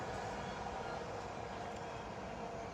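A train passing on the busy main north-south London line, a continuous rumbling roar of wheels and carriages, fairly close and steady for the whole stretch with no voices.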